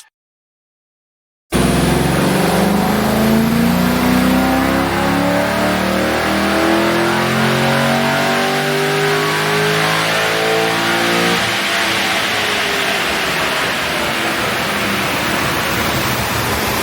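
A GM 6.0L V8 with CNC heads revs hard on a dyno after a brief silence, a loud sustained roar with rising and falling harmonic sweeps that eases into a steady high drone.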